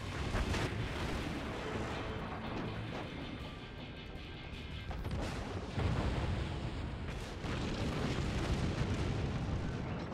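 Battleship secondary guns firing in World of Warships, a dense, continuous barrage of booming naval gunfire and blasts rolling on throughout, loud and close with no pauses.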